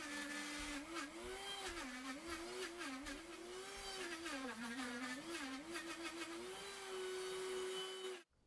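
A Vitamix 7500 blender runs continuously at high speed, a loud, steady motor whine with slight wavering pitch, blending a mixture before stopping abruptly at the end.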